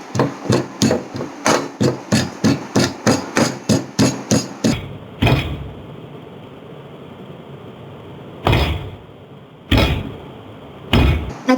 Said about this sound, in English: The hammer goes inside the water, but nothing happens if you do this to OOBLECK.